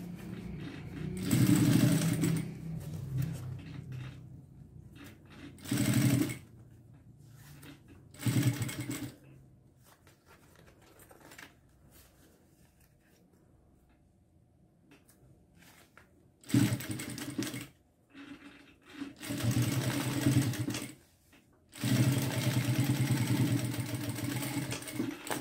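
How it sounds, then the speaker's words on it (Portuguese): Sewing machine stitching through an opened milk carton box for a square zippered pouch, in several loud bursts of whirring running separated by quiet pauses, with no talking. "abre direitinho essa caixinha de leite e passa uma costura"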